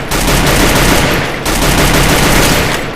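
Dense, loud automatic gunfire from a plasma gun in Garena Free Fire, fired while finishing off downed opponents, rattles continuously for three seconds with one brief dip, with no voices over it.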